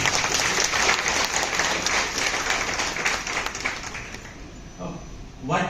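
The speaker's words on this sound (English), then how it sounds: "So give yourself a good clap." Dense, steady clapping from a seated audience at the inaugural session of an agricultural university meeting, holding strong for several seconds before tapering off with a voice returning at the close.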